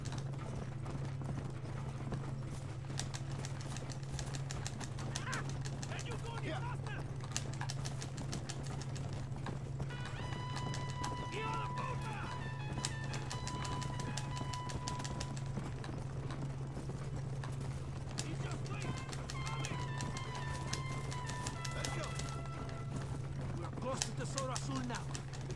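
Hooves clip-clop steadily as a horse gallops in Red Dead Redemption, a continuous rhythmic patter over a low constant hum with scattered mechanical clicks, while someone talks over it.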